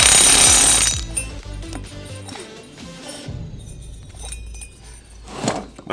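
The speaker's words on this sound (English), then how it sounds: "I just hold the Flywheel with my bare hand and I run it down with an impact" An impact wrench on a Honda GC small engine runs down the flywheel flange nut, starting with a loud close burst of hammering, then rattling and clicking as the tool slows and stops.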